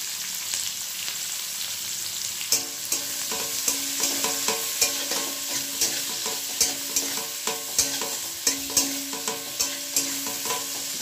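Capsicum and green chilies frying in a hot pan, a steady sizzle broken by repeated scraping stirs of a spatula, close and fairly loud with no talking.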